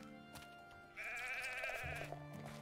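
A single sheep gives one long, wavering bleat, close and clear over a soft background.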